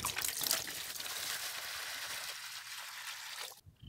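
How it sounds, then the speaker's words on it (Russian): Water poured into a container for a dog, a continuous splashing, hissing stream that holds steady for several seconds and then cuts off abruptly near the end. "Наливаем."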